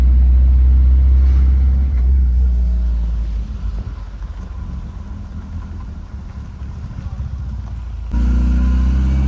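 A Gypsy jeep driven on a Kerala road trip to Ponmudi: a steady, loud low engine rumble and road noise throughout, easing slightly midway and then rising again, with no clear speech.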